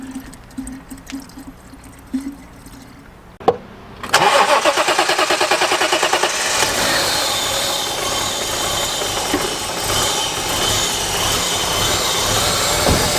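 A BMW E36 engine cranks with a rhythmic starter whir, with no fuel pressure in the fuel rail, then catches and roars into a loud, steady idle that continues to the end.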